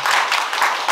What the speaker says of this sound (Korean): 우리 교수님께서 큰 박수 한번 다시 한번 쳐주세요